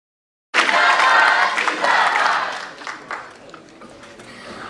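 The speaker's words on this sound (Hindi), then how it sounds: "जोरदार तालियां बजाइए।" Applause breaks out abruptly after silence as an audience welcomes a speaker, loud at first and then slowly fading into scattered claps, with some crowd murmur mixed in.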